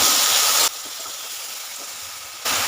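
Loud, steady sizzle and hiss of chopped tomato dropped into garlic already fried in a pan, part of cooking water lily stems with mustard paste. The sizzle quiets to a softer hiss midway, then surges loud again at the end.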